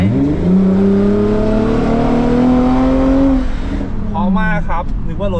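Lexus IS 250 fitted with a Euro Arts aftermarket exhaust revs loudly with a steady, droning engine tone that swells and then falls, heard from outside the car, with a voice talking over the final second.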